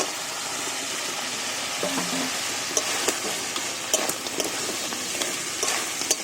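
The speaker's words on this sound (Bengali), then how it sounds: "এর মধ্যে দিয়ে দেবো কাঁকড়া ভাজাগুলো" Fried crabs sautéed in spice paste in a pan make a continuous close sizzle, broken by scraping stir strokes and small clinks across about six seconds, with no voices.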